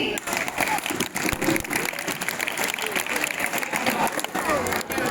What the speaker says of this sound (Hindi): तो आइए मिलकर तालियों के साथ स्वागत करते हैं